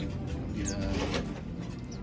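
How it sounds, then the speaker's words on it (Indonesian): Small birds flutter and flap inside a mini aviary cage, with soft wingbeats, brief chirps and a faint cooing in the background, close and fairly steady under a light hum of the surroundings. "ini burung-burung yang nanti akan kita lepas di aviary"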